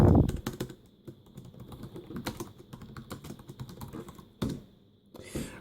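Keys clatter on a Dell Inspiron 3800 laptop keyboard in irregular bursts of close, crisp taps with short pauses between, alone with no talk over them.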